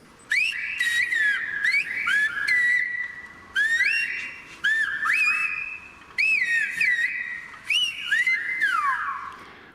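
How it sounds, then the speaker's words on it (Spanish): Loud, piercing whistled phrases of Silbo, the Canary Islands whistled language, by a master whistler, with rising and falling pitch glides in several bursts separated by short pauses. "grabación de un maestro de silbo de Canarias."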